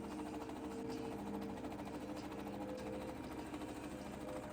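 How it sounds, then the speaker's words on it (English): A sewing machine stitches a taffeta layer for a dress, its needle running in a fast, steady mechanical rhythm with a constant motor hum, close and uninterrupted throughout. "And finally I sew up the taffeta layer."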